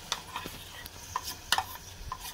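Gram flour stirred into a pot of boiling water while making Maharashtrian masvadi, a few brisk scraping and clinking strokes spread over a couple of seconds, close and fairly quiet.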